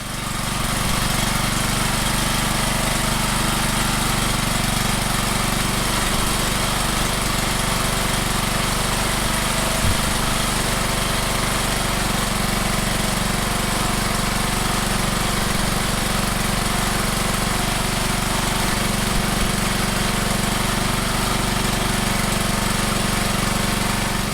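A Bolens engine with a freshly cleaned carburetor and the air cleaner off runs loudly and continuously at a steady, rough idle, with no voices.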